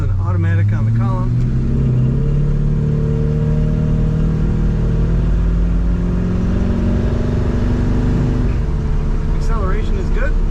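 The engine of a 1970 GMC C1500 Custom with an automatic transmission accelerates with a loud, rising drone that builds steadily over several seconds, while someone briefly talks at the start and end.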